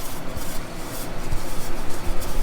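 Dough for homemade dog treats being rolled out with a rolling pin in an RV kitchen, giving a steady, close rubbing and soft scraping texture with faint knocks, no talking.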